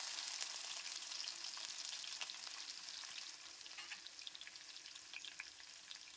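Crushed garlic and mustard seeds fry in hot oil, a close, steady hiss and sizzle with fine crackling pops throughout and no voices.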